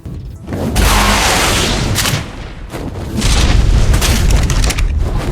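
Explosions blowing up spiked base defenses in the survival game Ark, a loud booming blast followed by a sustained roaring rumble, then a second heavy wave of detonations with crackling debris.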